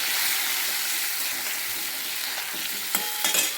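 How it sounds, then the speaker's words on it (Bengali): Onion, ginger and garlic paste sizzles steadily in a hot wok (kadai) and is stirred, giving a continuous loud frying hiss. A few sharper scraping strokes from the spoon come near the end. "এবার আমি কড়াইয়ের মধ্যে মশলাটা দিয়ে দেবো, দিয়ে নাড়বো।"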